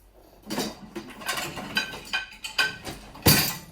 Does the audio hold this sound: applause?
no